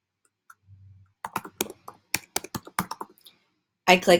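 Rapid clicks and taps from a computer mouse and keyboard while a Google Form quiz is being built, a quick string of sharp close ticks with a denser burst at the end, no talking.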